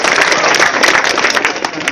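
An audience of students and parents claps during a provincial education official's school visit in NTT, Indonesia, a brief burst of brisk, dense clapping filling the room at close range.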